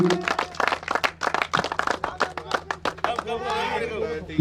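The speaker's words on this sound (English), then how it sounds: "A big round of applause for Team Nepal Gorkhali." A prize-giving at a cricket final honours Team Nepal Gorkhali with rhythmic, fairly sparse clapping, individual claps standing out sharply, mixed with voices talking throughout.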